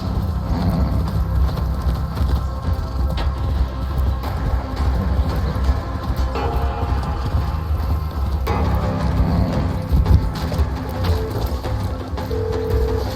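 Rapid rhythmic hoofbeats of a galloping horse in Far Cry 6 over a dense, loud game soundscape, continuous throughout.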